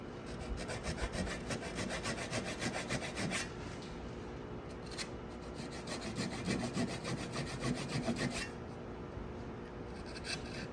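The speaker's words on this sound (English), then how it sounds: "Again, come in with the saw. Nice light touch." A hand saw cutting dovetails in a wooden board with a light touch, making steady back-and-forth rasping strokes up close with a brief pause partway, and no talking.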